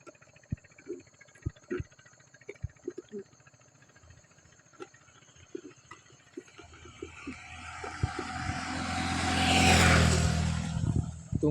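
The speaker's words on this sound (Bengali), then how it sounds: "এখন আমরা ভ্যানটা চালিয়ে বাড়ি যাই, চলো।" A motorized van starts off with scattered clicks and taps, then its engine swells into a loud, rising rev that peaks near the end, with brief voices nearby.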